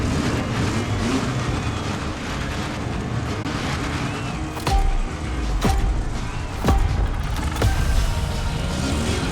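A souped-up Volkswagen Beetle engine drones steadily in the racing video game The Crew Motorfest, with a few sharp gear-shift transients over the continuous road and engine noise.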